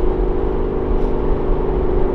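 A 2015 Ford Mustang GT with a Corsa Xtreme cat-back exhaust drones steadily at high revs, a deep exhaust roar holding level and close throughout with no voices.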